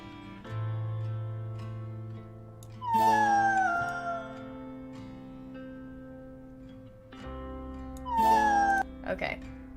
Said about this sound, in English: My cat Pandora says, rest in peace, Edwin